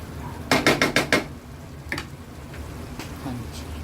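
A spoon clatters against a pot in five quick metallic knocks, then a few softer scrapes, while beef is fried for a curry, with a low sizzle underneath.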